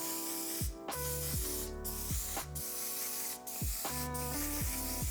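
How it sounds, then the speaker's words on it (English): Until Dawn waterproof setting spray misted onto eyeshadow in about five quick, close bursts, each a short airy hiss separated by brief pauses, with a faint tonal background running underneath. "I'm gonna go ahead and spray the eyeshadow so it sets."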